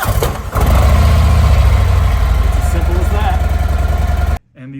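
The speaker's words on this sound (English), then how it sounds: "And all you have to do is turn your bike on." A motorcycle engine starts after being jump-started from a jump box, then runs at a loud, steady idle for a few seconds before stopping abruptly, with a voice briefly heard after it.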